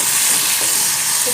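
Onions fry and sizzle in a pan with steady broadband crackle and stirring, close and fairly loud for a brief moment with no voices.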